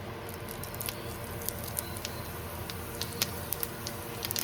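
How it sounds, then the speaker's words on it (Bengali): Cumin seeds dropped into hot oil with bay leaves give a faint, steady crackle dotted with small scattered pops, heard close up without talk. "তেজপাতা লাল লাল হয়ে গেলে একটু জিরে দিয়ে দেবো।"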